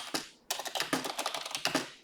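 Close, quick keystrokes on a computer keyboard as a measure name is entered in Power BI, a short burst of clicks, a brief pause, then a steady run of taps ending in a final key.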